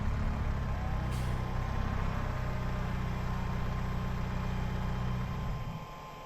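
A truck rolls in at a farm hay shed, its engine a steady low rumble close by, with a brief hiss of air brakes early on before the motor fades slightly at the end.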